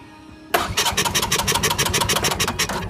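Engine on an off-road lawn tractor catching and starting abruptly after a brief quiet moment, then running in a loud, fast, rough chugging rhythm close by, with no talk.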